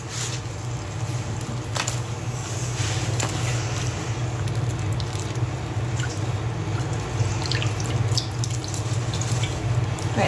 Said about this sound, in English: I thin it out with some water and pull the plug.